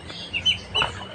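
Young desi chickens give a few short, soft clucks and chirps in quick separate bursts, close by and fairly quiet, with no voices over them.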